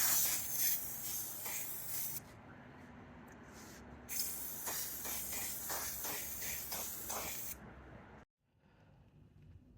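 Car Reps 2K clear coat sprays onto a drive-in speaker chassis as a steady, close airy hiss broken by several short pauses, then stops abruptly near the end.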